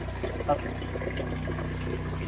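A steady low mechanical hum of a Jayco Outback caravan's water pump running at the tap with water flowing, continuous and close, with brief faint voice.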